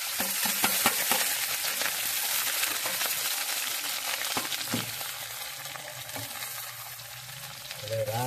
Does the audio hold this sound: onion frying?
yes